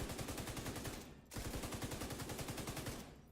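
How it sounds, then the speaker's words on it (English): Light machine gun in The Division 2 video game firing sustained fully automatic bursts, a rapid even rhythm of loud close shots with a brief pause near the middle, no talk. "while you're shooting with really an LMG, you're able to aim down sight and it just becomes a laser beam"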